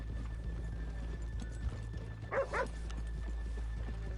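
Steady hoofbeats of horses trotting in Red Dead Redemption 2, with a brief whinny partway through, over a constant low background hum.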